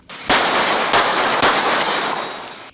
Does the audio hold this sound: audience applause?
no